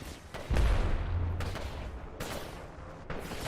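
Gunfire in an Apex Legends pro league match, with shotgun blasts booming over a constant busy game mix, several sharp reports spaced through the stretch.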